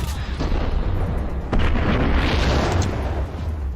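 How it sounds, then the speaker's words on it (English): Explosion in the Max Payne video game, seen through a wall: a loud, dense blast with a sharp onset midway, then a sustained rumbling roar over continuous background noise. "Like I can see the explosion through the wall."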